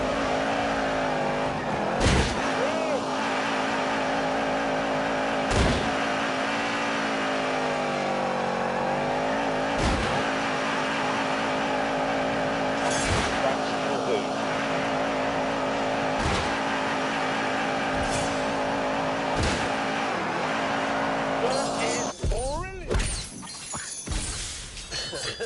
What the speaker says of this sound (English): Wheel spin, that just makes a huge amount of noise.